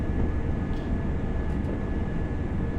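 A Class 801 train in Train Sim World 6 on the London King's Cross to Leeds line runs with a steady, dense, loud rumble of motor and rails, unbroken throughout with no voices.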